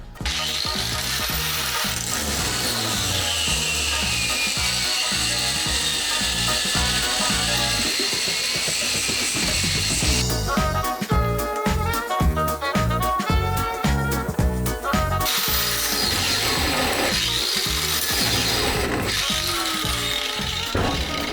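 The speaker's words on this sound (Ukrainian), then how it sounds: "болгарка бюджетна, ось я зараз покажу, що одною рукою ну, легенько її можна ну, задавити" A small budget Expert angle grinder whines steadily, then stalls under light one-handed pressure, its motor bogging down and laboring in rough, pulsing bursts before spinning back up, loud and close.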